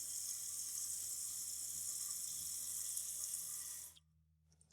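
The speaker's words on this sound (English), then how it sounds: "Let it fill up again." A toilet tank refills through a newly installed fill valve, giving a steady, close hiss of running water that cuts off abruptly as the valve shuts, leaving near silence.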